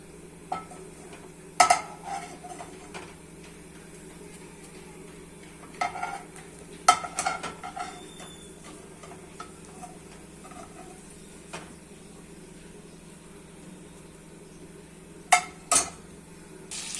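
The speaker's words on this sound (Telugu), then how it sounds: "మళ్ళీ ఎగ్స్ దీంట్లో వేసుకొని ఫ్రై చేసుకుందాం" Eggs frying in oil in a pan, a faint low sizzle throughout with sparse sharp clinks and scrapes of utensils against the pan.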